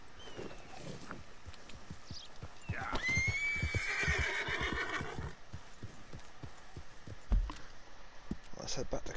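A horse in Red Dead Redemption 2 lets out a loud, drawn-out neigh close by, between trotting hoofbeats that keep clip-clopping before and after the call.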